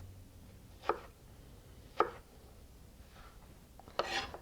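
A kitchen knife cutting vegetable sticks into small 5 mm squares on a board, three quiet, separate chops spaced about a second apart, with faint background hiss.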